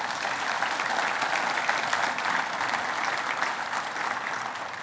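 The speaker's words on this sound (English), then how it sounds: "if I could have a round of applause for them" A conference audience at a business luncheon applauds steadily, dense, even clapping from a large room that holds at a constant level throughout.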